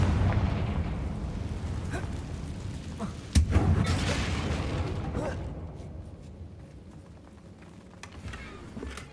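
A fiery Confringo spell blast in the video game Hogwarts Legacy: a rumbling roar builds, a single sharp burst hits near the middle, and the sound then fades into a low, dwindling rumble.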